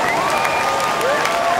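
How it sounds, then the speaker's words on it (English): A beach crowd at the Hurley Pro surf contest at Trestles claps and cheers steadily, with whistles rising above the dense applause. "And the crowd is going crazy"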